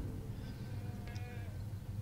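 Goats bleat inside the Medal of Honor video game, a faint, wavering cry around the middle of the clip over a steady low game rumble.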